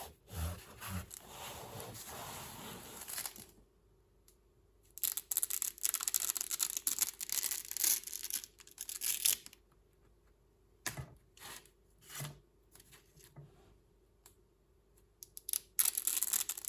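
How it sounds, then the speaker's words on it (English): Beeswax sheets peeled apart by hand for candle making, producing close sticky tearing and rustling bursts in irregular stretches separated by quiet pauses. "it sounds so good when you peel the sheets off"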